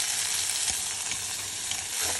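Onion, red chillies, tamarind and garlic sautéing in oil in a kadai, a dense close sizzle with faint stirring scrapes throughout, brief and steady with no talk.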